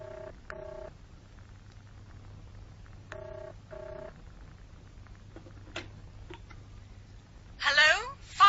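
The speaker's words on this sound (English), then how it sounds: "I picked up the telephone and dialed the number I'd taken from Hanley's file." A telephone number is dialed, heard as a few short, evenly spaced tone beeps in pairs over a low hum, followed by a brief rustle near the end.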